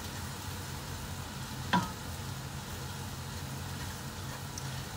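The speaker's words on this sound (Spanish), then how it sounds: "Y acá seguimos revolviendo." A vegetable quinotto is stirred in a frying pan, a soft steady sizzle running throughout with one brief scrape of the spoon midway, faint and close with no talk.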